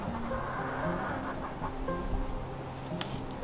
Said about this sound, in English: waiting for the chickens to interrupt me